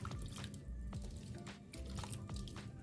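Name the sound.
washing Jamaican cherries in water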